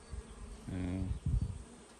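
Honeybees buzz in a steady low drone that swells and wavers for about two seconds, close by at a beehive, with a few louder passes near the end.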